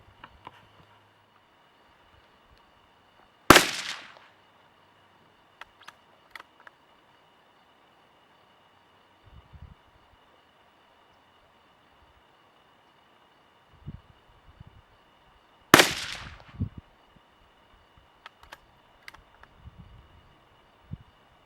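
A 17 HMR rifle firing Hornady 17 grain VMAX rounds from a stock-mounted bipod lets off two loud, sharp cracks about twelve seconds apart. Each crack has a short decaying tail, and faint handling clicks fill the quiet between them.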